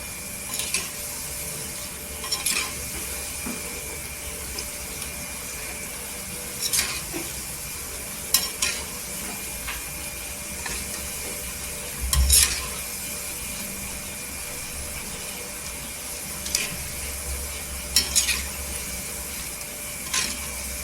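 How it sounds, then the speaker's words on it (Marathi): Besan pakoda batter fritters frying in hot oil with a constant soft sizzle, broken by occasional clinks and scrapes of a spoon stirring in the pan. "तेलामध्ये छान अशी फ्राय करून घ्यायची"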